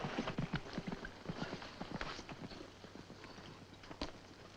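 Several horses walk along with a quick, uneven clip-clop of hooves, close by and fairly faint, in an outdoor Western frontier scene.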